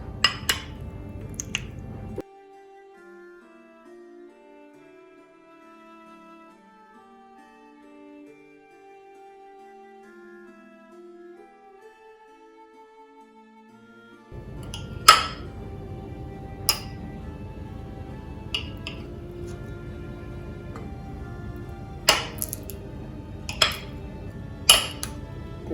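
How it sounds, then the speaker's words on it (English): Knife cutting butter into cubes on a board for brownies in a home kitchen: after a quiet stretch, a series of sharp, close taps and clicks land at irregular intervals over a low background hiss. "you need to cut the butter into cubes"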